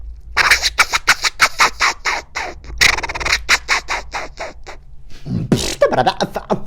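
A beatboxer vocally imitates turntable scratching in rapid rhythmic bursts, choppy and close, ending with a squealing, swooping scratch sound.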